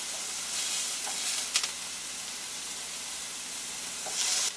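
A burger sizzles on a Delonghi Perfecto indoor grill, a steady close crackling hiss with small pops, continuing alone without talk.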